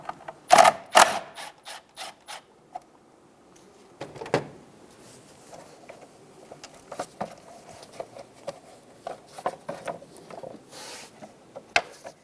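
A 10mm socket ratchet loosens the top nut on the fuel pump module of a 2000-2007 Ford Focus. Quick bursts of close, crisp clicking come in short runs separated by pauses, with a few sharper knocks.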